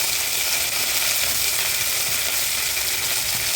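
A handful of mint and curry leaves dropped into hot oil in a frying pan while making Tamil chicken curry, giving a loud, steady, close sizzle throughout.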